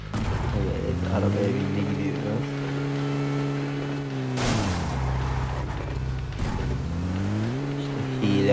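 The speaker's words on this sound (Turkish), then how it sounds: "Önünden bir araba gidiyor." A car in PUBG Mobile drives past, its engine tone rising and falling through shifting harmonic bands across several seconds, with talking over it throughout.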